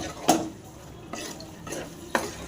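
Lemon pickle is stirred in a pan with a spoon, giving three or four distinct scraping clinks against the metal at a slow, uneven pace, close and fairly clear, with no talk.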